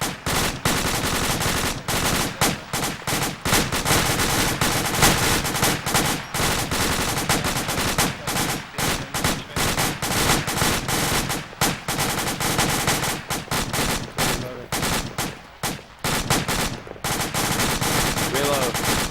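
Dense, sustained bursts of rapid gunfire during fireteam drills, loud and close, with shots overlapping almost continuously and only a few brief gaps, voices faintly mixed underneath.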